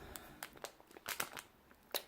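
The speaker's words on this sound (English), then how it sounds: "I'm sorry about all the rustling you hear." Packaging crinkles and rustles close by in short, irregular bursts of crumpling, fairly faint and with no talking.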